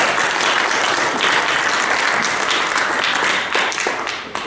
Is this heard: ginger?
no